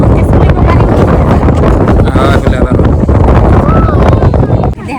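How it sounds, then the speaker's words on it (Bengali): Strong afternoon wind blows outdoors beside a long bridge over a river. Loud, constant rumbling gusts buffet the microphone, and a voice talks over them. "বাতাস হচ্ছে।"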